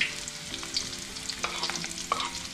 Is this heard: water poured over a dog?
no